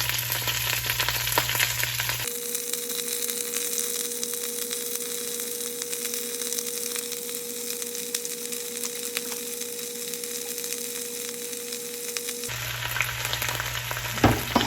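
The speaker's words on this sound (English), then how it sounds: "we're gonna wilt this spinach first" Spinach wilting in a hot pan makes a continuous moderate sizzle with scattered crackles and stirring sounds, over a steady low background hum through most of it.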